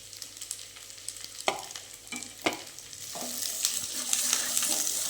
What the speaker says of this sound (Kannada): ಕರಿಬೇವು ಹಾಕಿದ್ಮೇಲೆ ಈರುಳ್ಳಿ ಹಾಕ್ತಾಯಿದ್ದೀನಿ